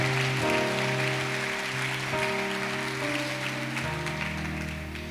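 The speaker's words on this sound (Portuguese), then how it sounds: "Dê uma salva de palmas a Ele bem forte" Church congregation applause rises as a soft, rain-like patter of many hands under sustained organ or keyboard chords, fairly distant and steady, tapering slightly toward the end.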